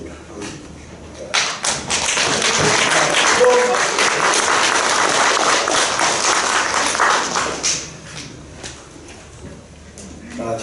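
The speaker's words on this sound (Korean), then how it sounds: "귀한 뜨거운 박수로 나오실 때에 환영해 주시면 감사하겠습니다" A church audience bursts into warm applause to welcome a pastor. The dense clapping swells quickly, holds for several seconds and then fades out.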